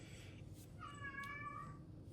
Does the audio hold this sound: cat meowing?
yes